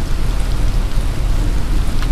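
Heavy, steady downpour in the video game Dead Island, a dense continuous hiss of rain falling on surfaces with no voices, filling the whole short stretch at an even loudness.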